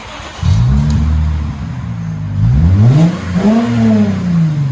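Close, loud aftermarket exhaust on a Lexus IS 250 2.5L idles, then revs up twice with a deep rising roar that settles back down.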